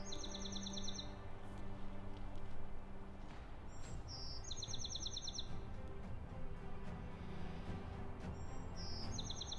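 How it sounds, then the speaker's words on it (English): Birds chirp in repeated short trills over a steady outdoor hum, some calls nearer and others farther away. "Just the birds."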